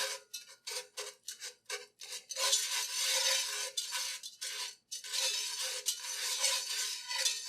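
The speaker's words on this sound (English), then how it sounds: "Now here in our pot, we've got garlic, our plant butter, and we're melting that down." Garlic and plant butter melting in a pot, heard as a steady sizzle broken by repeated scraping and stirring of a utensil against the pot, close and clear with no talk.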